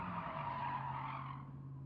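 A Mercedes-AMG race car in Gran Turismo 7 spins out with a sustained tire skid, a steady screech under the engine drone that gradually fades.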